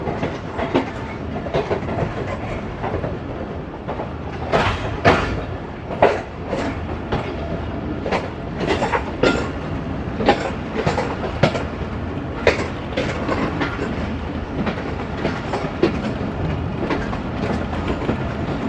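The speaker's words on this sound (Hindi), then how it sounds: "तेज़ गाम 8 डाउन गुजर खान रेलवे स्टेशन पर पहुंच चुकी है" Tezgam 8 Down passenger train at Gujar Khan railway station, a steady rolling rumble broken by rhythmic clickety-clack wheel knocks, loud and close throughout with no voices.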